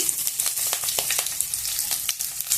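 Caraway seeds and green chillies fry in hot oil for carrot rice, a steady close crackling sizzle with sharp pops scattered throughout.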